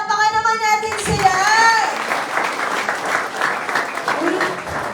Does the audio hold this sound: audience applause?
yes